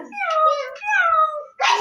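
A voice imitates a cat, giving two drawn-out meows followed by a short sharper cry.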